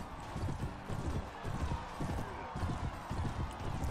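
Horse hooves clip-clopping in the medieval combat game Mount & Blade: Warband, a steady rapid drumming of hoofbeats close up, with a voice speaking faintly over the gallop.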